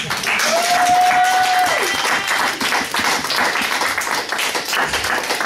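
A Sunday church congregation applauds for the glory of God, sustained dense clapping from many hands with a brief sung or called-out tone near the start and voices murmuring within the crowd.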